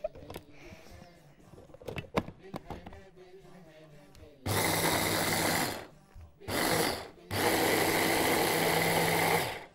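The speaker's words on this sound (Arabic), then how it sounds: "يلا عشان نطحنها تاني" An electric food grinder whirs loudly in several bursts, one long run, a short pulse, then another long run, after quieter kitchen handling sounds while preparing spiced minced meat filling.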